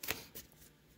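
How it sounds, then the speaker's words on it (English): Tarot cards get a brief close shuffle, two soft riffling bursts within a second, faint and unaccompanied by talk. "Now I want these cards to fly out."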